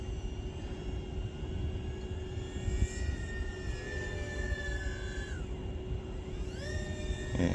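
A steady motor whine with rising and falling pitch sweeps as a small drone climbs through a large power loop, over constant low rumble and wind noise.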